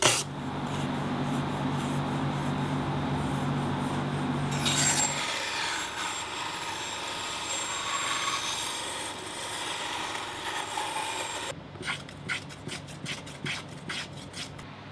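Wooden linings for a ukulele bass body being shaped by hand, with steady close rasping and rubbing strokes that turn to a quicker rhythmic scraping near the end.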